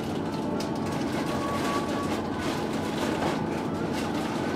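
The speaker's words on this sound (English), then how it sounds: "Looks like this guy is SD70M-2 and 9802 pulling a mixed freight train through the mountains." A mixed freight train pulled by SD70M-2 locomotives passes through the mountains near Roanoke, Virginia, giving a continuous, even rumble and rolling hiss that holds steady throughout.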